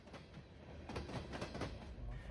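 Freight train approaching Ayer Station, its wheels clacking in a steady rhythm over the rails with a loud, rumbling roar up close.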